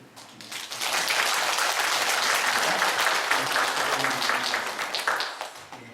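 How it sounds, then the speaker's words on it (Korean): A church congregation at a Sunday service claps in congratulation of an upcoming wedding. Sustained, dense applause builds within the first second, stays steady and loud for several seconds, and tapers slightly at the end, with no speech over it. "축하의 박수 드립니다"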